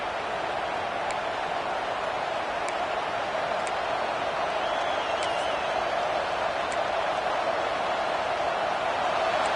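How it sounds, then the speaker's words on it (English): Football stadium crowd roaring at a college game against Cincinnati, a dense, steady wash of cheering noise that stays loud and unbroken throughout, with faint ticking accents scattered on top. "This crowd, full throat, splitting the eardrums"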